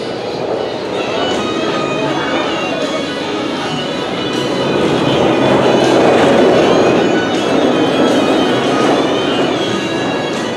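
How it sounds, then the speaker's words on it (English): A loud, empty roller coaster train at Adventureland rumbles and clatters past, swelling in the middle, with wheel noise and faint squealing throughout. "Looks like an empty train."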